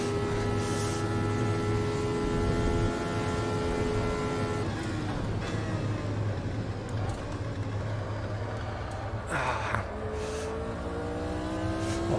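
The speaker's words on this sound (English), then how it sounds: "Oh, the engine is so loud, you cannot even hear my voice." Formula Retro race cars in Automobilista at the 1974 Spielberg circuit roar loudly and continuously, engine pitch climbing through gears, dropping sharply on shifts and braking, then rising again.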